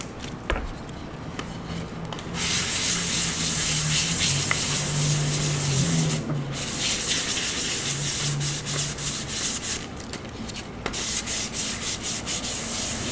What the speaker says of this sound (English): so we'll just sand this one